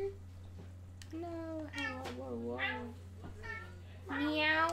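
A pet cat named Jingle meows several times in drawn-out calls, some rising and falling, with a steady low hum underneath and a voice speaking in between.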